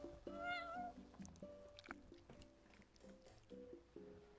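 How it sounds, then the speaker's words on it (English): A cat meowing in the video game Final Fantasy XV, a few short, faint meows spread across the clip, with no talking. "You're one spoiled cat."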